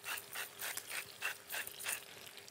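A hand-turned salt mill grinds salt over cooked zander fillets, giving about seven short, close gritty bursts of crunching at a steady rhythm, with no voices.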